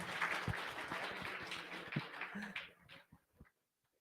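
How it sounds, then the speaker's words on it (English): Meet-up audience at a React and React Native developer session clapping for a presenter, scattered claps and a few sharper hand strikes that thin out and fade to silence near the end. "huge round of applause, please, for him"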